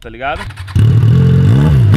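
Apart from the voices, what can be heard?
motorcycle engine revving to the rev limiter in neutral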